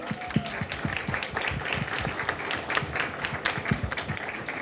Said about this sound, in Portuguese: Palmas aos nossos especialistas,